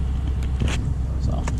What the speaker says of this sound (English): Apologize, you get nothing, and the truck's running.